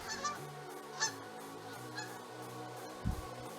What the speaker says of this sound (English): That's what we get a lot here, geese.